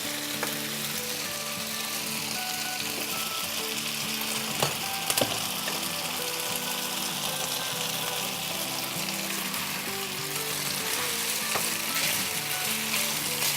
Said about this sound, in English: So now we are going to add our veggies